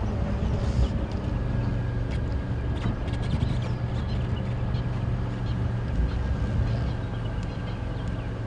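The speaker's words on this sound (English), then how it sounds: "I hear a bird party up here." Several birds call and chatter in the bush during an early-morning safari drive, steady overlapping chirps and calls over a constant low rumble, with no talking.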